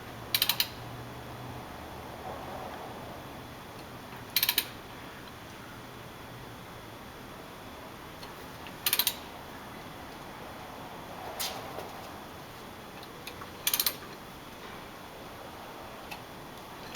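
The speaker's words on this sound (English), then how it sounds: "Okay, so Steve, go ahead and turn the crank" Crankshaft of a 1994 Mercedes E320 engine turned slowly by hand, giving faint intermittent mechanical ratcheting clicks at spaced intervals over a quiet background hum in a garage.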